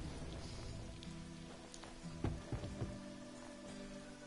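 Steady rain pours down in a Final Fantasy XV game scene, a constant wash of patter across the whole moment with a few louder thuds breaking through near the middle.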